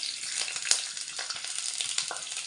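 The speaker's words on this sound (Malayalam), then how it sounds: "നമുക്കതിലേക്ക് കുറച്ച് വെളിച്ചെണ്ണ ഒഴിച്ചു കൊടുക്കാം. ഇഞ്ചി അരിഞ്ഞ് വെച്ചിരിക്കുന്നത് ചേർത്ത് കൊടുക്കാം." Chopped ginger fries in coconut oil for an onion sambar, a bright, close crackling sizzle with light stirring taps throughout.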